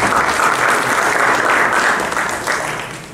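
An audience gives a strong round of applause to welcome a speaker at an occupational safety and health event, dense clapping that holds steady and then tapers off near the end.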